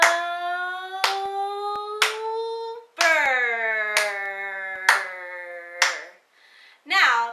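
Hands clap a slow, steady beat for a whole-note counting exercise, with crisp close claps punctuating a voice that sings long, sustained syllables.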